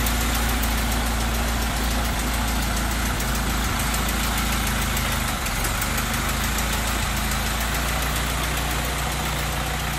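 A 1925 Ford Model T engine, restarted after years of sitting, runs steadily at idle with a close, loud, even mechanical chug and slight knocking throughout, no one speaking over it.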